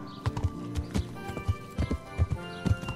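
Horse hooves clip-clop steadily in Kingdom Come: Deliverance as a rider heads downhill, a clear repeating rhythm of paired hoof falls, close and moderately loud with no voices.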